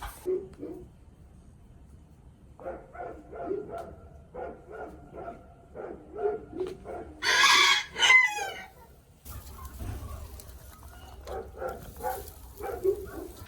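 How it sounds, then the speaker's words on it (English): A pet rooster crows loudly and close by in a barn setting, one long drawn-out crow standing out among repeated clucking calls and some barking, with someone talking warmly through much of it. "Boo Radley, my little rooster, was over here"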